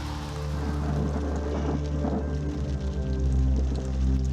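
Steady rain falling on surfaces during a night of unrest in Ferguson, a constant wash of drops with a low rumble beneath it and no voices.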